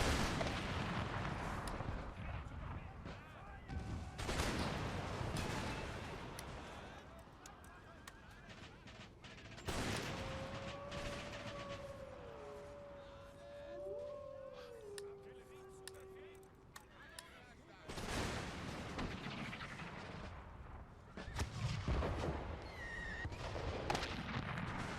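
Artillery and musket fire from Empire Total War rings out in heavy, repeated booming volleys spread across the battle, with quieter stretches between them and a horse whinnying in the background.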